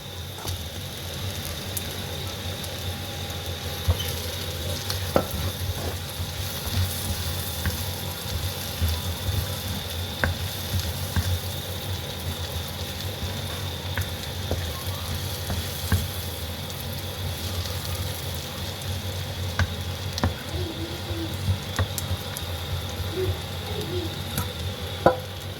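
Mutton added to sautéed onions in a pan for a stew, frying and being stirred, giving a steady soft sizzle with occasional scrapes and knocks of the spoon, alone without talk.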